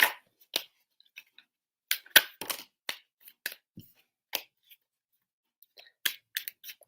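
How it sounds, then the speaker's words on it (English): Quick, dry riffles and snaps of tarot cards being shuffled in short bursts, with small taps and pauses between them, close by and otherwise quiet. "I'm like the worst at shuffling cards today."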